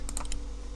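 A few quick clicks, about four in under half a second, ring out close and crisp over a steady low hum while a computer mystery adventure game is played; no one speaks.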